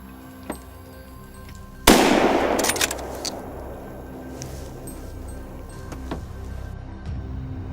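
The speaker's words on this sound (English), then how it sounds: "Gunshots echoed steadily through the quiet forest, each shot cleanly dropping a target." Gunshots ring out in a quiet forest during a large wild boar hunt, one sharp loud crack followed by a long echoing decay, with a few fainter pops scattered after it.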